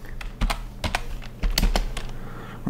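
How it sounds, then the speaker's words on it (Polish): Keystrokes on a computer keyboard as a Windows shutdown command is typed, a few clustered clicks then a faster run of taps, close and fairly crisp, ending in a heavier keypress; no talking. "Wpiszę sobie to shutdown."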